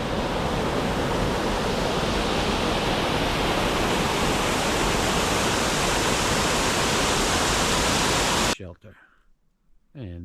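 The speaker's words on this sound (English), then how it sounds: "Long Creek Falls, here it is" Long Creek Falls on the Appalachian Trail roars steadily as a loud, dense rush of falling water close by, cutting off abruptly near the end.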